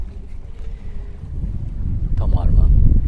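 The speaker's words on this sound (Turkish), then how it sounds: "Şu an rüzgara karşı gidiyoruz." Steady wind noise buffets the microphone over a low rumble of a sailboat moving through water against the wind, growing louder toward the end with a brief splash or creak.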